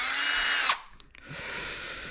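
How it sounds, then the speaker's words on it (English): A freshly recharged cordless drill whirs loudly at high speed for under a second, winds down, then spins up again at a slightly lower, steadier pitch, close by with no talking. "So guys, that's the drill recharged."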